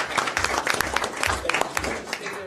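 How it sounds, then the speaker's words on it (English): A council chamber audience gives a short round of applause for a presentation, scattered clapping with distinct individual claps, moderately loud and close, with some voices murmuring underneath. "Let's give her a round of applause for that presentation."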